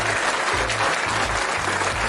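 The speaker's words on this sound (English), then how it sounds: "Let's give our brother a round of applause." Brief round of applause for a guest on a 49ers pregame talk show, a dense clatter of clapping that holds steady for about two seconds.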